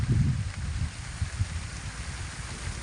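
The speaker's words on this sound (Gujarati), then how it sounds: "જોઈ લ્યો વરસાદ ચાલુ થઈ ગયો છે" Soft, steady patter of monsoon rain on a farm with low rumbling noise, fairly quiet and continuous, no voices.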